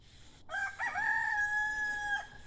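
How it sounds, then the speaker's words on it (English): A rooster lets out one long, loud cock-a-doodle-doo close by at 6 a.m. on a homestead while the stars and moon are still out, the crow rising, holding steady, then breaking off. "a couple of my roosters."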